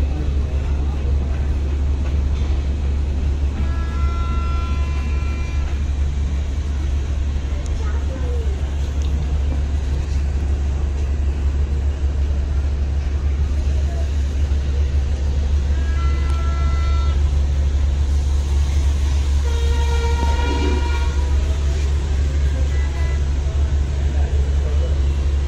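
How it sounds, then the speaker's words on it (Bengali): Ambience at the Munshiganj launch terminal in Bangladesh: a constant deep engine rumble from ferry launches, with scattered horn-like tones and people talking throughout, continuous and fairly loud. "আমরা চলে এসেছি মুন্সিগঞ্জ লঞ্চ টার্মিনালে।"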